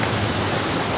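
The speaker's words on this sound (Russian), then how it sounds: "великолепный вот этот водопад. И вот он спускается. 350 метров высоты." Dudhsagar waterfall in Goa, a 350-metre drop, gives a dense, continuous roar of falling water, loud and even, with no voices.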